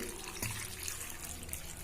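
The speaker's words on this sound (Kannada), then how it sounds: "ಉಪ್ಪು ಹಾಕಿ ನೀರು ಹಾಕೋಣ್ರಿ" Water poured into a bowl of chopped raw tomatoes and salt for a raw tomato chutney, a soft, faint running and splashing sound with no talk.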